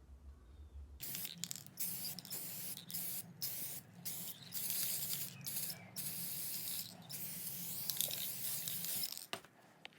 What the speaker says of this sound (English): I'm gonna spray paint the middle of the pan.